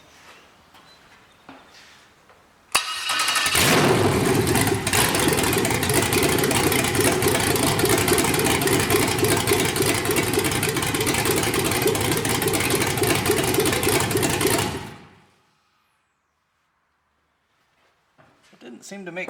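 LS truck engine running on a MegaSquirt 2 idles with a loud, steady broadband roar for about twelve seconds, then cuts off abruptly into near silence.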